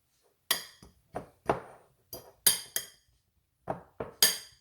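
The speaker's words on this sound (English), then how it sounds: "I'm going to get my fork and stir it up." A metal fork clinks and scrapes against a dish while stirring a keto tuna casserole mixture, giving about ten separate bright taps spaced irregularly, close and clear with silence between them.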